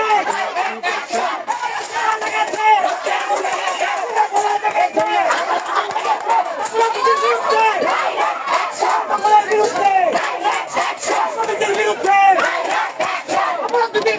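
Students in a midnight protest march at Dhaka University, a dense crowd chanting loud, continuous slogans in rhythmic unison, close and sustained throughout without pause.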